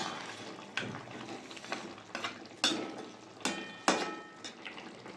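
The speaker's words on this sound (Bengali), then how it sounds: "সব একসাথে মিশিয়ে নিই" A spoon stirs tangra fish curry with chopped coriander and fried lentil dumplings in a pan, giving several distinct scraping and clinking strokes spaced unevenly over a faint, soft simmer.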